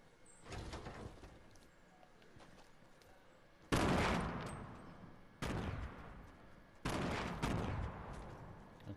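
Bursts of gunfire in Fortnite Battle Royale duos, with a few heavy, abrupt shot blasts spaced seconds apart that each ring out into a decaying tail over a low background of game ambience.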